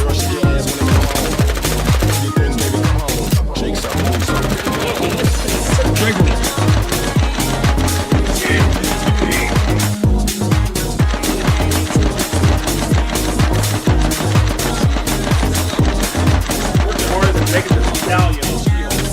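Rapid machine gun fire in a video game, dense continuous bursts of loud rattling shots with steady rhythm, mixed with background game sounds and voices.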